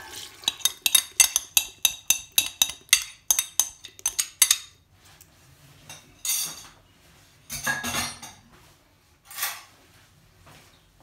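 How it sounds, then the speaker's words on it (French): A spoon clinks rhythmically against a bowl while stirring sourdough starter into flour for a walnut and apple sourdough bread, with a steady run of about a dozen clear taps followed by softer scraping and mixing sounds. "Et je remue bien avec une cuillère."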